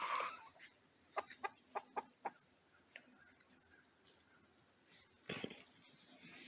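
A young Rhode Island Red chicken gives a quick run of soft clucks, close but quiet, then a brief rustle near the end.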